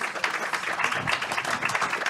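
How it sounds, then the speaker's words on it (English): Applause from an audience at a conference session on soil health and food security, a soft, continuous patter of many hands at moderate distance. "Let's give her a round of applause."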